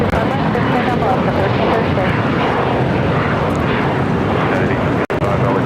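Jet airliner engine roar at Los Angeles International Airport during a takeoff roll, a steady broadband rumble filling the whole stretch, loud and close, with air traffic control radio chatter nearby and a brief dropout near the end.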